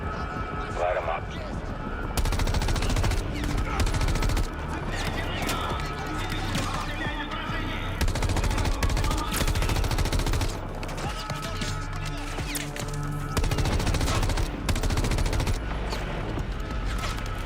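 Bursts of machine gun fire crackle through a dense video game trailer mix, layered with horse whinnies, hoofbeats, music and people talking, the sound swelling and dropping in loud waves throughout.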